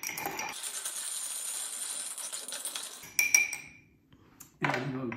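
A Wright Flyer cocktail with Applejack stirred in a glass, giving a continuous light metallic tinkling of spoon and ice, then a few sharp clinks and a pause before a voice is heard.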